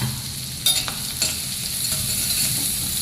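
Chutney sizzles in a hot pan on a low flame for tempering, a steady frying hiss broken by a few light clinks and stirring scrapes, close and continuous.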